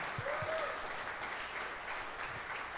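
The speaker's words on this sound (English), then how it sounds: "So give Tanya a little applause, man" Applause from a live studio audience at a Green Bay Packers clubhouse event, a steady wash of clapping sustained at moderate loudness throughout, with no voices above it.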